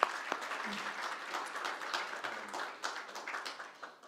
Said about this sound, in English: Again, a round of applause, please, for Manuel and Laboy.